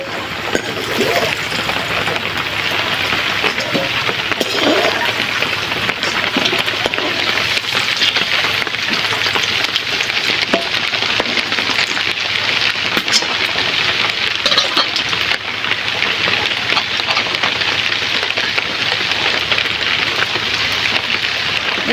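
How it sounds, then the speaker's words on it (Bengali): Vegetables fry in hot oil with a dense, continuous sizzle and crackle that stays steady and close throughout. "খুব সুন্দরভাবে ভেজে নিচ্ছি।"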